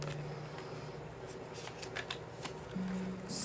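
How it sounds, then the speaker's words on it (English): Indigo Angel Oracle cards being flipped through, a soft continuous papery riffle of cards brushing past one another, close and fairly quiet, with a faint steady hum beneath and no speech. "how would I do a flip through backwards?"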